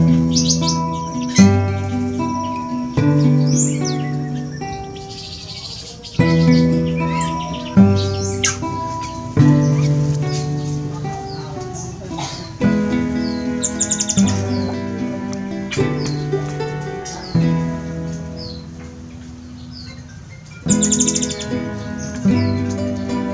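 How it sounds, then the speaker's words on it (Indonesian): Chestnut-backed thrush, known as anis macan, an exotic bird endemic to Nusa Tenggara, sings in a close, loud stream of varied melodic whistled phrases. A steady harmonic backing that may be music runs underneath throughout. "Burung anis macan ini juga dikenal dengan nama sebutan anis ampenan ya oleh para kicau mania."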